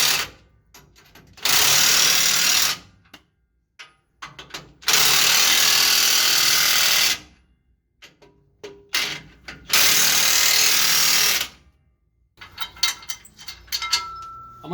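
A power ratchet drives bolts down on lift blocks under a Silverado 3500HD 4x4 truck, three long loud whirring bursts separated by silences, then shorter clicking ratchet turns and clanks close to the listener.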